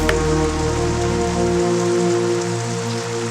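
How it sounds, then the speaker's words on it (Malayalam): Heavy rain pours down steadily at a deserted riverside boat landing, a dense, continuous hiss that stays loud and even throughout with no voices. "നല്ല മഴ, തോണിക്കാരെയൊന്നും കാണുന്നില്ലല്ലോ"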